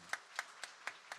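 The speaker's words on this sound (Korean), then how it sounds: "우리 환영의 박수 하도록 하겠습니다." A few separate, evenly spaced hand claps from a church congregation welcoming a member at a Sunday service, quiet and slightly distant, about five claps at a steady rhythm with no talk over them.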